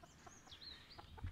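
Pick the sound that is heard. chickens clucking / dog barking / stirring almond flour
chickens clucking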